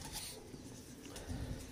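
A domestic pigeon coos faintly at close range, with soft low coos swelling near the end over a quiet background hiss.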